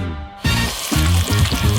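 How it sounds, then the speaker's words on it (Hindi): Electric mixer beating curd cheese with chocolate in a bowl, a steady loud whirring drone that starts abruptly after a brief quiet moment and runs continuously with slight pulsing as the batter churns. "और अब मैं उसमें चॉकलेट डालूंगी और मिक्सर के साथ सब कुछ अच्छी तरह से मिलाऊंगी।"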